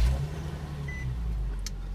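A 2013 Nissan 370Z coupe with automatic transmission fires up by push-button start, its engine catching and settling into a steady, close, low idle rumble with a brief whir partway through.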